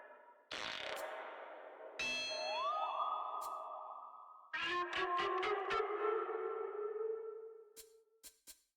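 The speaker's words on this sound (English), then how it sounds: "Here's that elk call that drove you all crazy." An elk call sound effect from Super Mega Baseball 4 plays as a series of echoing, ringing tones, then a sliding whistle-like bugle and a long held note. It is loud and clear, ends in a few short clicks, and there is no talk.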